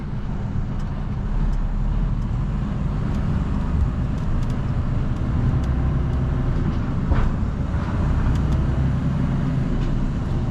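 A shunting truck hauling trailers between warehouses pulls out of the yard onto a main road, its engine a steady low rumble throughout, with passing road traffic mixed in and no talk.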